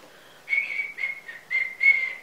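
Someone whistles a short, casual tune nearby, a few wavering notes in quick succession, soft and alone.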